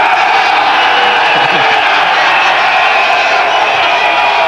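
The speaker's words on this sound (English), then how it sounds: "I think the crowd are happy." A stadium crowd at a cricket match between Pakistan and another side roars and cheers continuously, a loud dense wash of voices with whoops rising from the mass.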